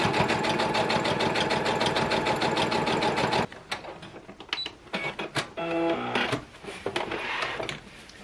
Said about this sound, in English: You can sew along the bottom and the sides in one continuous stitch